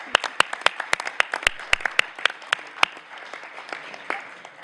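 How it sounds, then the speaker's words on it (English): A conference audience at an annual market discussion claps for presenters, sparse distinct hand claps from a modest crowd over a few seconds that thin out toward the end. "give them another round of applause"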